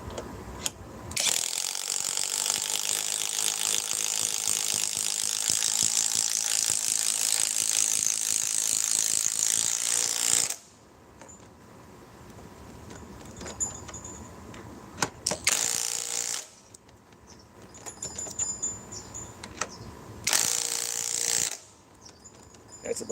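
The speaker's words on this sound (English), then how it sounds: "we're running 3 different manufacturers' compact impact wrenches with the same battery" A cordless compact Bosch impact wrench hammers loudly in one sustained run of about nine seconds, then fires several shorter bursts separated by quiet pauses.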